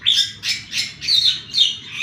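Birds call loudly and close in an outdoor aviary cage 8 m wide, 20 m long and 5 m high. The shrill squawks and chirps come in a steady rhythm of about five overlapping bursts.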